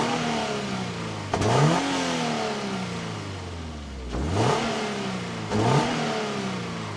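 A 2025 Toyota GR86 Hakone engine settles into a steady idle, then is revved three times in sharp blips that rise and fall back, close and fairly loud.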